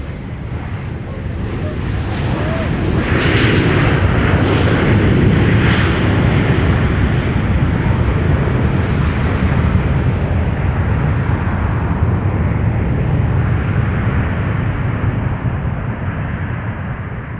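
A Southwest airliner landing at MSP airport, a loud, sustained roar of engine and rushing air that swells over several seconds and lingers as a broad rumble, with a voice heard faintly beneath it.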